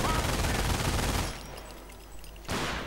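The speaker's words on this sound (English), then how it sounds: "the MG42 catching the rifleman out in the open" MG42 machine gun in a World War II strategy game, sustained rapid firing that fills the first second and a half, then a quieter lull of battle noise before another loud burst of gunfire resumes.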